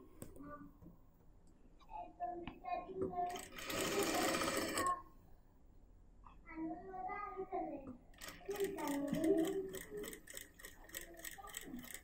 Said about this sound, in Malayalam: കറക്റ്റ് ഇതേപോലെ തന്നെ അങ്ങോട്ട് വെച്ച് നമുക്ക് നെക്ക് അങ്ങോട്ട് സ്റ്റിച്ച് ചെയ്യുവാണ്.